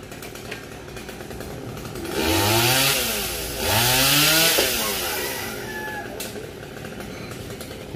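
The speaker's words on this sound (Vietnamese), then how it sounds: "anh Tùng cưa nguyên nhánh bự luôn nha các bạn." Chainsaw cutting through a large tree branch outdoors, its engine rising to a loud whining roar in two long bursts of cutting, then dropping back to idle between and after.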